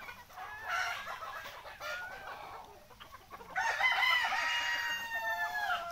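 Sonali desi hens cluck and chatter nearby on a poultry farm, then a rooster crows loudly over the flock, its call drawn out above the ongoing clucking.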